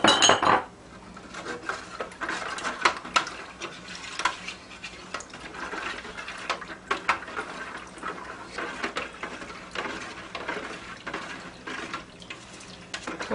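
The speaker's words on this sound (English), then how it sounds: "you're going to sprinkle it in and mix it in" A spoon stirs garlic and dry-rub spices into beef broth in a pot for Chicago Italian beef, giving a steady, close clatter and scrape of metal against the pot with faint liquid swishing and no talk.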